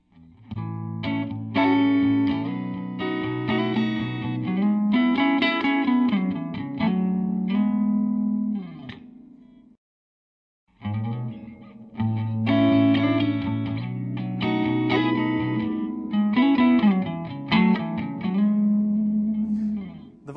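Heavily distorted electric guitar chords and riffs through a Mojoverb spring reverb unit, drenched in splashy reverb, playing loud with a brief pause midway before resuming.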